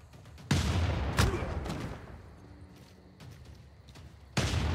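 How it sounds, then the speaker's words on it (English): Field cannon firing in Civilization VI, two heavy booming blasts spaced about a second apart, with a long rumbling decay after them and another blast at the very end. "This field cannon can fire twice."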